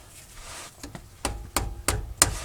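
Hammer pounding a steering rack bushing out of a 2000-2006 Toyota Tundra, a few faint taps followed by four sharp metallic strikes building in force, close and alone.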